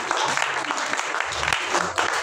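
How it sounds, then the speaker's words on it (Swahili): A congregation at a Swahili sermon on marriage and submission breaks into applause, bursts of clapping rising and dipping unevenly while a few voices murmur underneath. "Tupigeni makofi."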